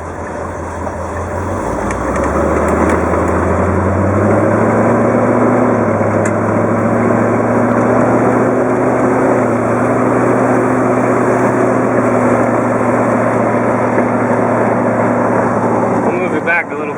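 A 1973 Corvette convertible with a 454 V8 and new headers runs loud and steady, its deep idle rising into a sustained, droning exhaust note that holds for most of the stretch with only a faint voice in the background.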